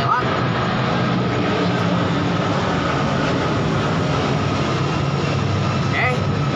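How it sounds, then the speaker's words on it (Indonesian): An airplane flies overhead with a loud, steady, broadband engine roar that fills the whole stretch, masking the background throughout with no clear voices. "Ntar ada pesawat lewat"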